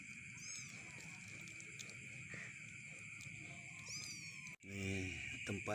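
A young, still-nursing kitten meows in repeated short, high cries over a steady background hum, with a brief dropout near the end followed by a louder close cry.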